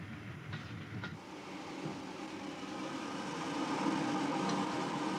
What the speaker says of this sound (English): Four carriages turned out to be a bit of a strain for the veteran loco, which had to be worked hard to make the steep grade towards Glenfinnan